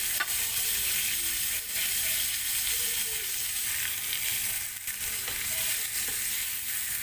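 Beef steak frying in a pan for a Filipino-Indian steak-with-gravy dish, giving a steady, loud, continuous sizzle with faint crackles and occasional stirring, no voices.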